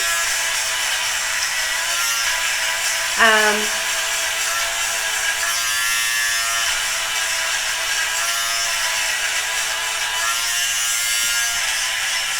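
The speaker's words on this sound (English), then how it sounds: "I'm going to do is a little bit of a sweater shave on this too, just before it goes out." Electric sweater shaver removing pilling from a sweater: a steady, close mechanical buzz runs throughout, with a brief louder rasp near the start and no talk.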